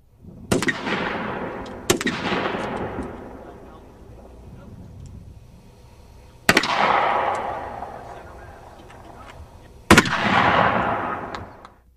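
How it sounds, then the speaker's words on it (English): Three sharp, loud gunshots crack at widely spaced intervals, each followed by a long rolling echo, as a field rifle, shotgun and 9mm handgun are fired at test panels on a Marine base range. "Separate pieces of panel were tested with field rifle, shotgun, and 9mm handgun."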